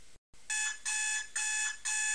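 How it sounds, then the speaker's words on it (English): An electronic alarm, played from a wave file by a Linux shell timer script, beeps in four long, loud bursts with short gaps between them, following a brief moment of silence at the start. "we'll do it once with our alarm wave sound"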